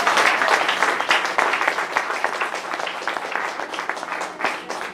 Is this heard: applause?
yes